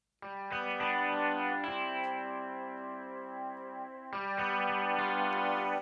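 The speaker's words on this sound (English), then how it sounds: "Now next is chorus or flanger or anything else. We can activate, and then we can control depth and rate." Ketron keyboard playing sustained chords through a chorus or flanger effect whose depth and rate are being adjusted, giving a shimmering swirl over about six seconds, moderately loud, with no speech.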